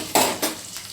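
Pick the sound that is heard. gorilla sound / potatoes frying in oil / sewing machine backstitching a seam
potatoes frying in oil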